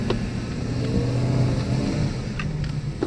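A 2008 Porsche Cayenne pulls away in drive mode, its engine giving a steady, close low drone with a faint rise in pitch as it gathers speed, with no voices over it.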